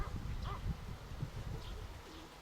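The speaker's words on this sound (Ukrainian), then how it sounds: "Оце мої самі любимі голуби." Faint, soft cooing of domestic pigeons returning to land a short way off, a few low calls over a quiet outdoor background.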